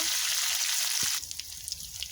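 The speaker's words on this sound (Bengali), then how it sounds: "আলুটাকে হালকা করে ভেজে নিচ্ছি, নুন মাখিয়ে হলুদ মাখিয়ে" Potato pieces fry in oil seasoned with salt and turmeric, a steady close sizzle that drops to a quieter crackle partway through, with a brief scrape or stir near the midpoint.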